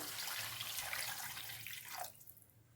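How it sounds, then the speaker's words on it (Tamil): Water pours into a pan of pea and potato kurma as a short, soft, steady splashing stream that stops near the end, quiet and close, with no talking. "தண்ணி சேர்த்துக்கலாம்."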